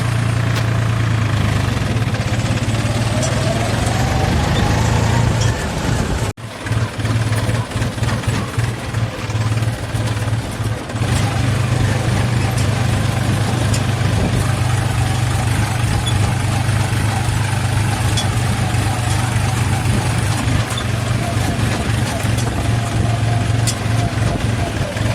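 A New Holland 4710 4x4 tractor driving along in top gear, its engine a loud, steady low drone with one brief drop, heard close throughout while someone talks over it.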